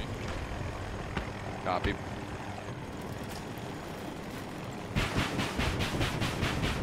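Helicopter rotor and engine noise in Battlefield 2042, a steady whirring drone under game chatter and radio calls, with a brief voice reply and a sharper rhythmic chopping burst near the end.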